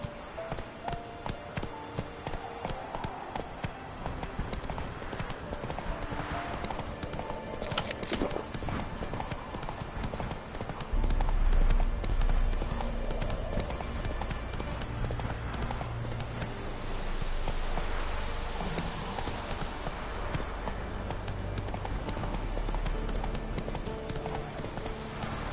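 Roach, a horse in the video game The Witcher 3, gallops with a steady, loud clip-clop of hooves over a continuous game soundscape, with occasional low rumbles.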